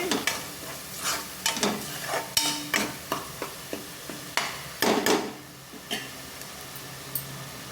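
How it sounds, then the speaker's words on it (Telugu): Whole masala frying in a pan for a spicy country-chicken curry, with a spoon scraping and stirring in a steady rhythm of sharp strokes over a soft sizzle, close and fairly loud. "ఫ్రై చేసుకోవాలి ఈ మసాలా మొత్తం బాగా వేగాలండి"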